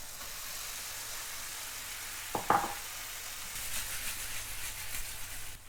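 Shrimps and cherry tomatoes fry in a hot pan on lowered gas, giving a steady broadband sizzle throughout, with a brief sharper crackle partway through as the shrimps go in.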